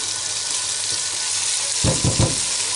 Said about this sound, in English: Going to give that a stir. Mix all that ginger and garlic in with the tomatoes.